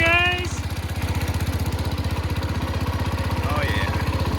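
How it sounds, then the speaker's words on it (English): A Cub Cadet tractor's small engine idles steadily with a fast, even low throb, and a voice speaks briefly over it. "we got a running tractor, guys"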